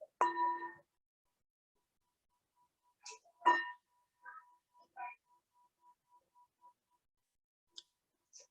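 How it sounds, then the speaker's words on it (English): A meditation bell rings during a guided class, a struck tone with several quiet, decaying follow-up strikes spread across a mostly silent stretch. "And we'll let the bell transition us."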